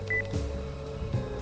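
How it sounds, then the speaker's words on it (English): A phone rings in the Spirit Hunter NG video game, a brief electronic beeping tone at the start followed by a low steady hum and a few soft clicks, all fairly quiet. "Aonomi's phone rings."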